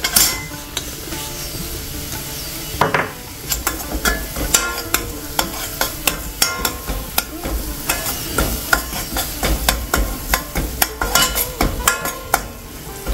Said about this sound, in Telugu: అది ఇప్పుడు ఈ నేతిలో వేసి వేపుకోవాలి